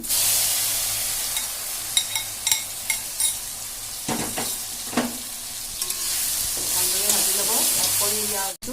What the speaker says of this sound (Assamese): এতিয়া মই চয়াবিনটো ইয়াত ভাজি ল'ম